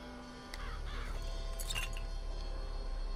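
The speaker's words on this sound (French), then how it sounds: "On va lancer des corbeaux" A flock of crows summoned by the Murder of Crows vigor in BioShock Infinite, giving a few faint caws and fluttering over a steady low hum, with no one talking.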